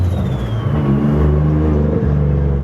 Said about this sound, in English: he's just running through the cold start procedure